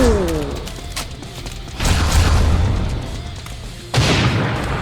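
Two heavy, muffled grenade explosions in the first-person shooter game Line of Sight land a couple of seconds apart, each followed by a rumbling, noisy tail.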